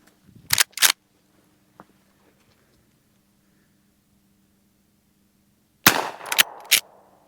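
Two sharp, close .38 Special standard-pressure gunshots crack from a 16-inch .357 Magnum carbine, followed after a quiet pause by a tight cluster of several more sharp reports.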